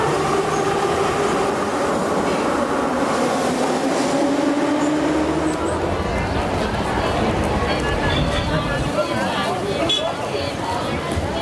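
Loud, continuous rumble and rattle of a subway train in motion, with a rising electric motor whine partway through.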